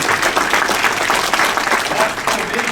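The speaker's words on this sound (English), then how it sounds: "please welcome him with applause" Audience applause welcoming a guest at a political event in Edmonton, a loud, dense, sustained round of clapping from a crowd lasting the whole short stretch.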